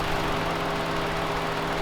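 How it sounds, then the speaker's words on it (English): A Mitsubishi Delica engine with a suspected worn engine mount runs steadily, a constant mid-pitched idle drone with a faint hum and slight vibration, heard close under the raised bonnet in dusty outback country, no voices. "The Delica's making a bit of a noise."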